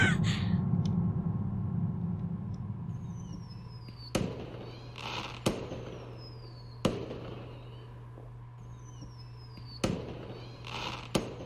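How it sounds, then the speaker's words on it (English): Fireworks in the video game Angels with Scaly Wings crack in a series of sharp bursts, each followed by a crackling fizzle, over a steady low hum of game music. "Ooh, fireworks time."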